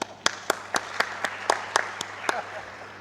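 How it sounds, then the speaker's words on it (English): At a leadership dialogue event, sharp evenly spaced claps ring out about four per second, eight or so distinct hits over a soft room background before tapering off. "we should really need to give him a big round of applause"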